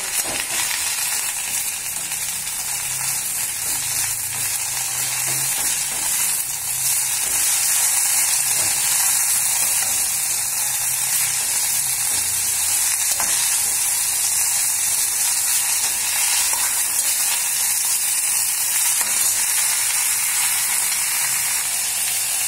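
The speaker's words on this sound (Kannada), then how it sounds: "ಎಣ್ಣೆಗೆ ಹುರಿತಾ ಇದ್ದೀನಿ" Oil sizzles steadily and loudly in a pan while ingredients for a fenugreek (menti) pickle fry, a constant close hiss running unbroken throughout with no voices.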